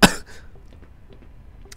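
A single sharp, loud cough bursts out at the start, followed by quieter shuffling and faint room noise; the cough is part of a coughing fit while a Black Mesa game plays.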